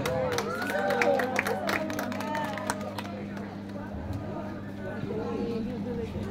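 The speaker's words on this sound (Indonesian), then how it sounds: "Sekali lagi berikan tepuk tangan yang meriah." Audience clapping and crowd murmur fill the space after a student's Indonesian-language speech contest entry, steady and moderately loud with broad noise throughout, while a host's voice talks over the applause near the start.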